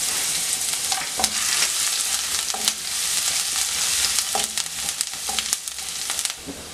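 Garlic and ginger sauté in hot oil with mustard seeds, giving a steady close sizzle with crackling spatters and occasional scraping stir strokes, with no voices.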